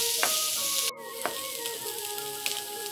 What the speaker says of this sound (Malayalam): ഈ എണ്ണ കിടന്ന് ഒന്ന് മുരിഞ്ഞ് കിട്ടത്തക്ക രീതിയിൽ വഴറ്റിയെടുക്കാം